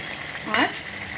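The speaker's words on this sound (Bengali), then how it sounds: "এই দু মিনিট খুব ভালোভাবে মাছগুলোকে আলুর সঙ্গে আর এই মশলার সঙ্গে নাড়াচাড়া করে নিয়ে" Puti fish tossed with potatoes and spices in a pan: a single close scrape of the spoon mid-way over a continuous soft sizzle, with no voices.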